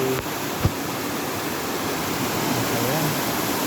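A mountain river flows steadily near a bridge, producing a broad, continuous rushing wash of water that is close and even, with a brief knock early on and no talking.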